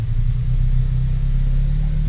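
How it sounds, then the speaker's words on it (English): Car motor in Ranch Simulator runs with a steady, loud low-pitched rumble, an even drone that holds for the whole stretch with no voices over it. "It's a very nice motor sound, I have to say, though."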